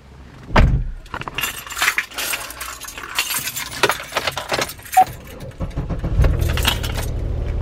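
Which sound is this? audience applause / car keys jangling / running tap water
car keys jangling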